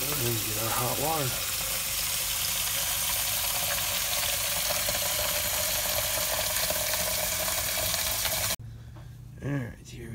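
Continuous hissing rush of hot water pouring steadily into a cup, loud and close, ending abruptly; a voice speaks briefly at the start and after it stops.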